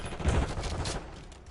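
Hand cannon fire in Call of Duty Black Ops 6, a quick pair of heavy shots followed by fading echoes, moderately loud within the game's ambience.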